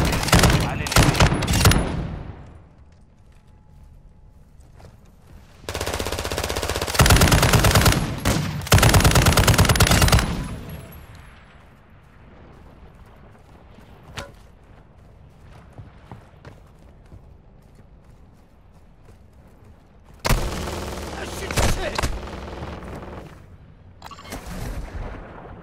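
Gunfire in Call of Duty: Modern Warfare II, loud bursts of automatic fire in several long volleys with quieter stretches between, a brief voice in the mix.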